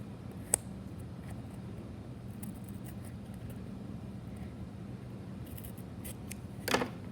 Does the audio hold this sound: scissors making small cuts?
yes